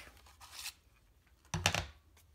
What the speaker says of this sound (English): I'm also going to punch out one of these label shapes from real red cardstock.